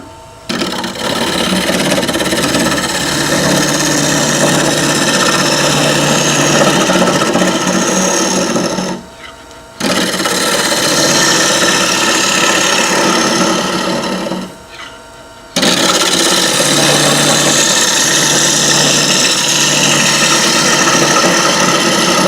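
Bowl gouge cutting into a turned wooden bowl on a wood lathe, a loud, steady rasping hiss that runs continuously, broken by two brief pauses between passes.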